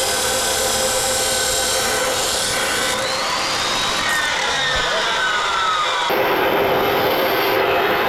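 Steady, harsh metal cutting on a snowmobile torque plate being chopped for a Quad Trac mini snowcat build, a continuous loud rasping grind that shifts pitch partway through and runs without pause.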